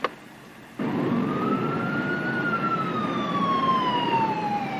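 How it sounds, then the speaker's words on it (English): Police car sirens wail in a rising then slowly falling sweep, loud and close, coming in abruptly after a brief quieter lead-in and continuing steadily. "Red lights and sirens."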